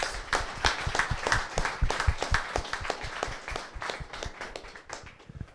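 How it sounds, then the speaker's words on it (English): Audience applause for a panel of speakers at a leadership speaker series event, dense rapid hand claps filling the room steadily and fairly close, with no talking over it. "if we could please give our panelists a big round of applause"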